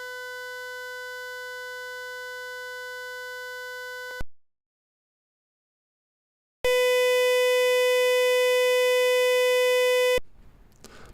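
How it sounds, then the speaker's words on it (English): Steady electronic beep tones, a long pure tone with harmonics holding for about four seconds, then silence, then a second sustained beep, followed by faint noise at the end. "I don't know what the beep comes from."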